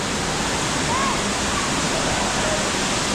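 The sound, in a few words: waterfall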